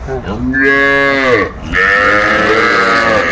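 A young heifer calf at a Noakhali cattle market moos twice, long and loud and close by, with the second call drawn out after a short breath.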